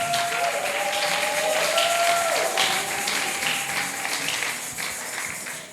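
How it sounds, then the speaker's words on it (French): A church congregation applauds for the glory of God at a French-language service, steady dense clapping filling the room for several seconds with a sustained tone and some voices underneath. "Est-ce qu'on peut acclamer pour la gloire de Dieu?"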